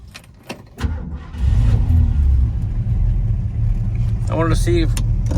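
A 1962 Ford Falcon hot rod with a 302 V8 and aluminum heads cranks briefly and fires up, settling into a loud, close, rumbling idle that holds steady, with a short burst of speech near the end.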